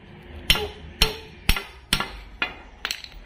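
Hammer strikes seat a leaf spring into place on a cart, six sharp metallic blows in a steady rhythm about half a second apart, close and loud with short ringing decays.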